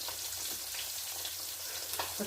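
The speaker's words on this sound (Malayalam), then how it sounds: "മീനും ആവുന്നുണ്ട് ഈ മീൻ പൊരിക്കാനുള്ളത് തിരിച്ചിട്ടിട്ട് പോവാം" Fish frying in a pan of hot oil for a home-cooked fish curry, a steady close sizzle and crackle with faint occasional pops, no talking.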